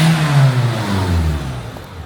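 A Ford Fiesta accelerates nearby, its engine note rising in a loud revving surge that then eases off and fades slightly toward the end, with no voices.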